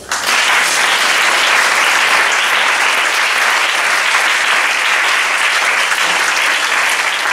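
Church congregation breaking into sustained applause, a dense, loud, even clapping that fills the room for several seconds without voices.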